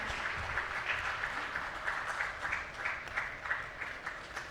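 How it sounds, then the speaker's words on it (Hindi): Audience applauding at a Hindi-language ceremony stage event, a steady, moderately distant wash of clapping that holds evenly throughout without any speech over it. "तालियां रुकनी नहीं चाहिए थी।"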